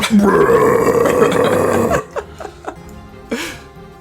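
A man imitates a long, deep, menacing burp for about two seconds, loud and close, then breaks into chuckles and laughter alongside other voices at a tabletop game session.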